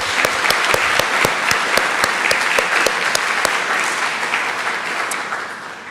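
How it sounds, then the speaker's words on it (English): A church congregation at its annual meeting gives a round of applause: crisp, close claps ring out in a lively rhythm over a bed of general clapping that slowly thins and fades toward the end. "So let's give Joe a round of applause."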